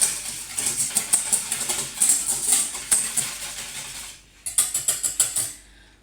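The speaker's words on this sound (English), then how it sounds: "Now we're going to whisk it all together." Egg, oil and milk whisked together in a bowl for crumpet batter, a fast run of bright metallic ticks against the bowl that pauses briefly and then resumes, close and fairly loud with no talking.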